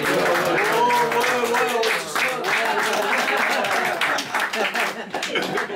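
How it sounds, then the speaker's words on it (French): Guests at a Christmas gathering at a host's home applaud Jean Rivin, giving a burst of close, uneven hand clapping mixed with lively talk and voices throughout, fading slightly toward the end. "Ouais, on peut l'applaudir aussi."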